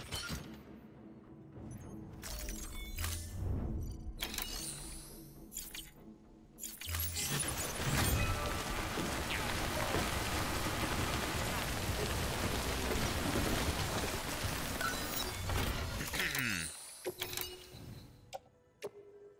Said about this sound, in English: So rainy. I don't like it.